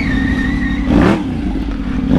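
Car engine revving hard through a loud aftermarket exhaust, close by, with a sharp rev spike midway and a steady rumbling idle around it.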